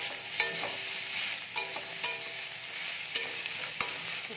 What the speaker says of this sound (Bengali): সয়াবিনগুলো ভাজা হয়ে গেছে,